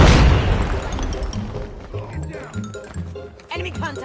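Grenade blast and rapid gunfire in the Call of Duty Mobile Search and Destroy mode, a heavy boom at the start followed by scattered shots and bursts, with game voice callouts over the action.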